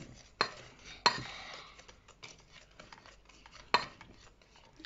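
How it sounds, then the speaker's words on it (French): A spoon scraping and clinking against a mixing bowl while chocolate banana cake batter is stirred, with three sharp knocks standing out over a quieter irregular scraping. "Un saladier et tu mélanges."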